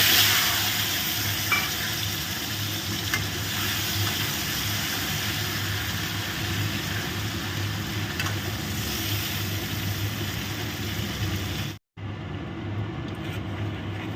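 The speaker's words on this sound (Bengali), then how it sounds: "মাছগুলো ভেজে তুলে রাখলাম, এবার ওই তেলে আলুটা ভেজে নেব।" Potato pieces fry steadily in oil left over from frying prawns, a continuous dense sizzle that holds evenly before a brief cut near the end.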